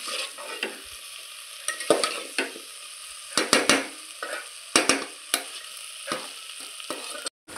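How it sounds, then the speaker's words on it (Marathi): Onion, tomato, cauliflower and eggplant masala being stirred in a hot pan, with a steady sizzle under repeated scraping strokes of a spoon, close and moderately loud, no voices. "ह्याला छान आता मिक्स करून घ्यायचं आहे, कांदा, टोमॅटो, फ्लॉवर आणि वांग"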